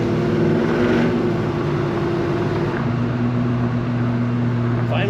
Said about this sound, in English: My favorite thing though is the exhaust sound.